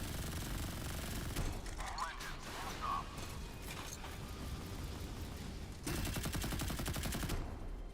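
Warship cannon fire during Modern Warships naval combat: loud, dense bursts of rapid booms and rattling shots, nearly continuous, with a harder volley near the end.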